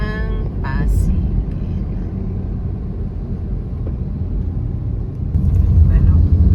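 Steady low road rumble of morning traffic heard from inside a car heading to Pasig, a continuous drone that swells slightly near the end, with a brief voice-like sound at the start.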